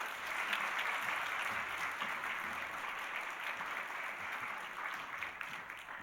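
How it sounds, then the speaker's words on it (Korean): Steady applause from a church congregation during an awards segment, a dense, even patter of clapping that continues throughout without pause, heard at a moderate distance. "박수로 축하하겠습니다"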